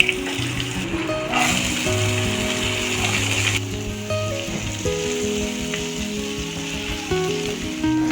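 Ginger, green chili and urad and chana dal fry in a pan with a steady sizzle, which dips partway through, over a constant tonal background.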